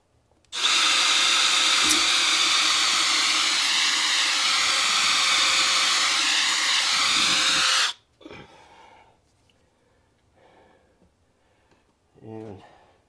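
A power drill whines loudly and steadily for about seven seconds, then stops, leaving quiet handling noises and a short mechanical buzz.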